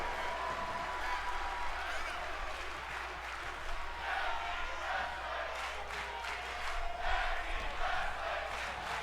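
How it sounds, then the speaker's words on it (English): A crowd chants at a tag team wrestling match in a steady, roaring wash of many voices, heard from a distance with rhythmic swells of cheering. "You hear this crowd chanting tag team wrestling, Snad and Mare."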